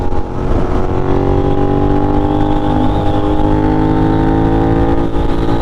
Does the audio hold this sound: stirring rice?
no